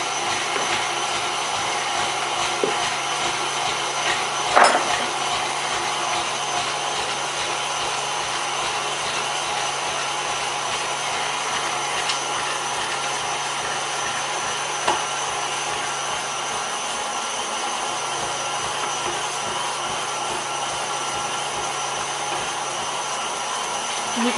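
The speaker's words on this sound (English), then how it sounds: "So my KitchenAid really makes light work processing these peaches." A KitchenAid mixer processing peaches makes a steady, loud motor whir that runs unbroken throughout, close by, with a couple of faint knocks over it.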